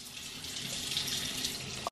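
A tap runs steadily into a sink, a continuous close hiss of flowing water that cuts off abruptly at the end.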